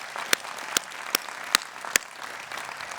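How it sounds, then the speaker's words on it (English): Sparse, scattered applause from a graduation audience at the 2022 Johns Hopkins University commencement in Baltimore, with a few sharp individual claps standing out above a soft, distant clatter of hands. "Let us please give them one more round of riotous applause that they so deserve."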